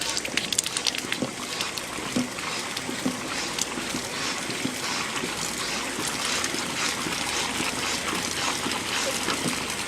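Water rushes steadily from a pressurized stored-water tap into a cup, a constant hissing splash running for several seconds without pause, close and fairly loud.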